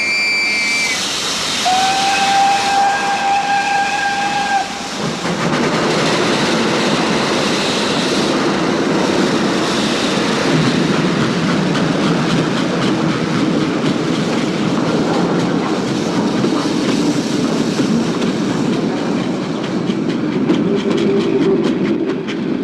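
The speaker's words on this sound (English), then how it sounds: "No, I get off the train at Kolinko." A passenger steam train sounds its whistle in a few shrill toots, then rumbles and hisses steadily along the rails, loud and continuous, with no voices.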